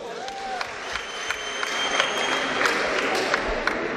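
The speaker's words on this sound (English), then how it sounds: "Ladies and gentlemen, let's give these warriors a big round of applause." Sustained applause and some cheering from the crowd at a boxing tournament after a bout, a continuous wash of clapping with whistles and scattered shouts, fairly loud and unbroken throughout.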